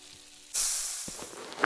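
Food held over a campfire sizzles in the video game Ilysia, a sudden loud hiss bursting in after a quiet moment and holding steady, with a soft thump partway through.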